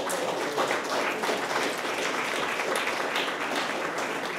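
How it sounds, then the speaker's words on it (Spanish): A church congregation applauds steadily and densely for several seconds, a continuous even roar of many hands, loud and sustained with no pauses and no speech. "Denle un aplauso al Señor"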